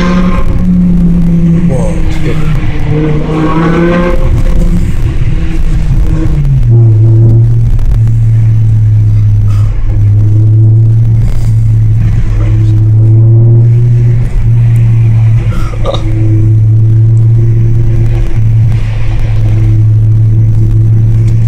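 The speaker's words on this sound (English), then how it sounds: "The downshifts, though." Inside a BMW M5 E60 in manual mode, the engine drones loudly and steadily, its pitch climbing and dropping as revs rise and fall through downshifts, while passengers talk over the cabin rumble.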